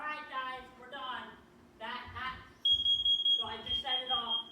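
Smoke alarm in a basement set off by burnt zucchini, sounding a piercing high steady beep that cuts in partway, with people talking before and under it.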